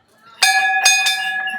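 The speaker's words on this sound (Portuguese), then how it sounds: "toca o sino" A bell at a Santo Antônio religious festival is struck three times in close succession, each ring clear and bright with a lingering metallic tone, close and alone.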